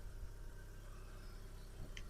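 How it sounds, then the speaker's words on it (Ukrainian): A 2008 Volkswagen Golf Plus with a 1.6 MPI petrol engine idles quietly, a low, steady hum with faint vibration and no talking. "Ідеально працює мотор."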